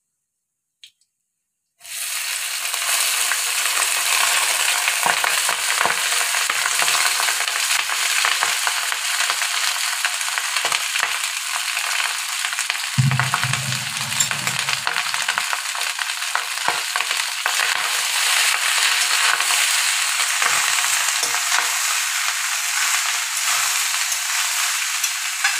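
Cooked rice is stir-fried in a pan with ghee and oil, raisins already added, making a loud, unbroken sizzling hiss that starts abruptly and holds steady, with a brief low rumble partway through.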